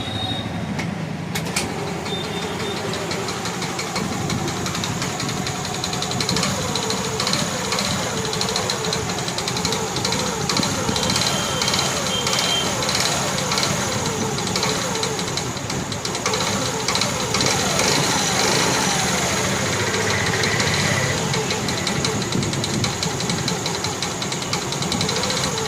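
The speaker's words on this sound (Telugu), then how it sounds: "ఈ బండికి అయితే క్రాంక్ సౌండ్ వస్తుంది" A motorcycle engine with a crank knocking fault, also producing smoke, runs steadily and loud throughout, a continuous rough idle with a repetitive mechanical knock close by.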